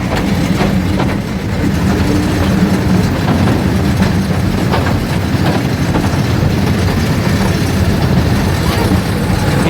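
A nearly empty passenger train runs along the rails at a rail museum, giving a loud continuous rumble with rhythmic clickety-clack from the wheels and faint voices inside the carriage.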